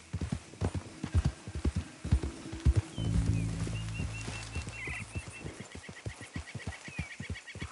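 A horse in Red Dead Redemption 2 trots along with rhythmic clip-clop hoofbeats, joined midway by a loud whinny and some birdsong in the background.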